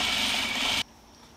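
Sewing machine running steadily as it stitches the seam of men's shorts fabric at a quarter-inch allowance, a continuous close mechanical whir that cuts off abruptly partway through.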